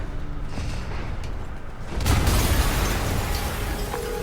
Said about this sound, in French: Yori, une explosion à...